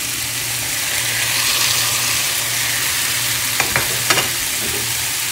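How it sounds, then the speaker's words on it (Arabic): Tomatoes go into a pan of softened onions frying in olive oil, a steady loud sizzle punctuated near the end by a few sharp clicks and scrapes of stirring, with no voices. "بعد ما دبل البصل راح اضيف طماطم،"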